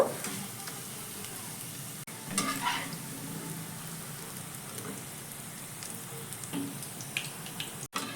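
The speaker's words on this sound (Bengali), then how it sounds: "বাকিগুলো একইভাবে ভেজে নেব" Semolina tiffin snacks deep-frying in hot oil give off a steady, close crackling sizzle that runs unbroken, with no voices over it.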